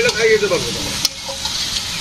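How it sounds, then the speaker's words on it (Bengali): Fish frying in a pan in a village home kitchen, a loud, close, continuous sizzle with a voice briefly heard over it at the start and a sharp pop midway. "মাছ ভাজা তো করছি"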